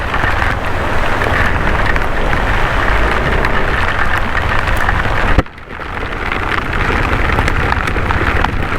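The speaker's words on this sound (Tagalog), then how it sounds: "bumuhos na ng sobra yung ulan" Heavy rain pouring down in a constant loud roar, with a brief dip midway before the downpour continues.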